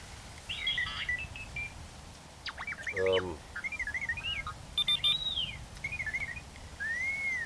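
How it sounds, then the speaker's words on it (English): A mobile phone plays an R2-D2 ringtone inside a bivvy beside a carp fishery lake: a faint run of warbling electronic chirps, whistles and beeps over low wind noise. "it's me phone ringing. That's me R2-D2 ringtone."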